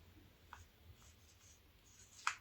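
A white marker writes on a plastic seedling label while pepper and other vegetable seedlings are being planted, giving faint scratchy strokes in a quiet room and ending in one sharper squeak.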